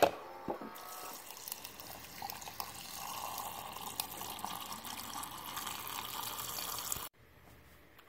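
Steady stream of cold water from an LG 27 cu. ft. side-by-side refrigerator dispenser (model LHSXS2706S) pouring and splashing into a container for several seconds, then cutting off abruptly, leaving quiet room tone.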